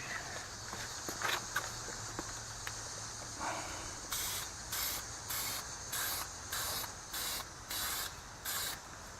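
An aerosol can sprays blue paint onto car brake calipers: a few faint hisses at first, then a run of about eight short, loud bursts at an even rhythm, close up and with no voices.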